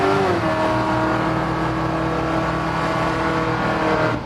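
A 630-horsepower big-block Chevy C10 truck does a burnout, its engine roaring loud and sustained at high revs, with a rough steady drone and possible tire noise, close and alone.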